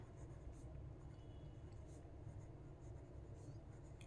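Faint scratchy writing strokes as a sentence is written out during a geometry lesson on line segments and elementary shapes, quiet and intermittent over a steady low hum.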